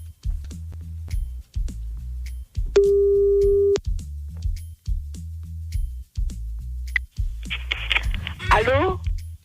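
A telephone ringback tone repeats in regular low pulses while a call is placed to a listener, with one longer steady beep partway through and a voice starting to speak near the end.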